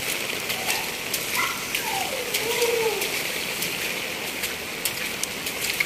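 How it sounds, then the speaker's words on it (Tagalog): Heavy rain pours down in a dense, constant hiss and patter, with splashing water and occasional louder drips close by. "grabe ang buhos ng ulan"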